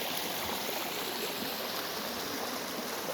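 Spring and river water in Jamaica rush and babble steadily, a dense continuous flowing roar close by with no voices.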